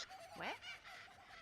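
One short, nasal goose honk sweeps upward in the Untitled Goose Game trailer, heard faintly at a game awards watch party, followed by quieter honk-like calls.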